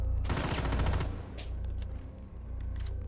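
Rapid automatic gunfire from the video game Rainbow Six Siege, a dense burst of loud shots for about a second, then quieter scattered game noise and distant shots.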